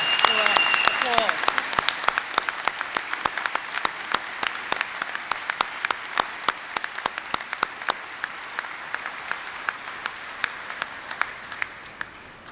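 An audience claps at a state police recruit graduation ceremony, a steady stream of crisp individual claps that goes on for several seconds and slowly thins and fades toward the end.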